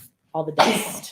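A person sneezes once, sharply and close, on a windy, dusty day right after saying a few words.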